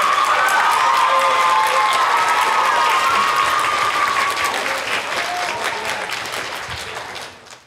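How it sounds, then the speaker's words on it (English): A crowd at a middle school concert claps loudly and steadily for the accompanist with some cheering mixed in, the applause slowly fading out over several seconds. "Can we give her a round of applause"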